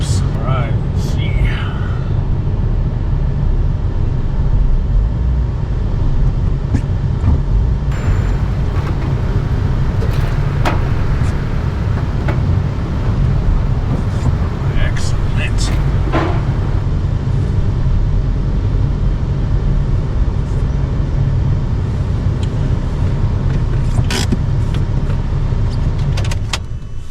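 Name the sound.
car driven off the ramps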